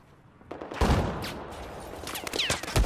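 Dense bursts of gunfire crackle through a military simulation video game firefight, with sharp rapid shots and loud overlapping volleys that build from about half a second in and keep going to the end, close and intense.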